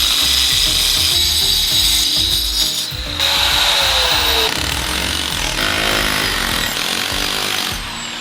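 A power tool cuts and grinds away a mortar corner on a garage slope so a shutter rail can pass, a loud rough rasp with a whining motor that shifts pitch, runs continuously and eases off near the end.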